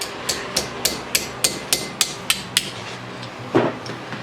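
Copper rivets are struck with a hammer in a steady run of about ten sharp, evenly spaced metallic taps, close and clear, ending with one heavier blow.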